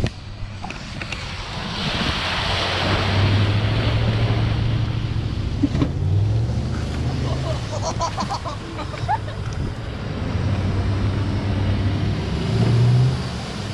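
Lexus GX engine revving and droning continuously while stuck in sand on a beach at South Padre Island, rising and falling under wind and surf noise, with faint voices in the background.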